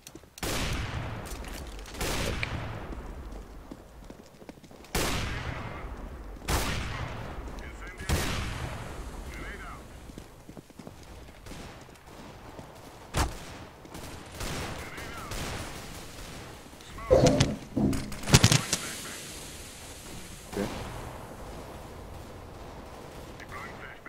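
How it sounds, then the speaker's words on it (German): Rapid gunfire bursts from the video game CS:GO, with repeated loud volleys and scattered single shots through the clip, mixed with people talking over game sounds. "deine Schüsse gehen überall hin, nur nicht in den Gegner."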